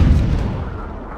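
Gunfire from a unit in the video game Myth II: Soulblighter, a single loud, deep blast that decays over about a second, heavy and booming, with no talk.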